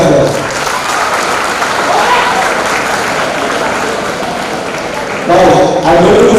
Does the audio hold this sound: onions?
no